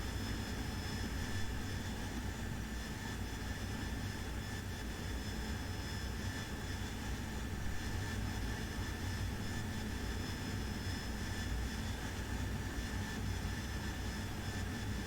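A Harrier jet in the DCS World flight game, flying at about 13,000 feet, gives off a loud, steady roar that holds an even level throughout with no pauses.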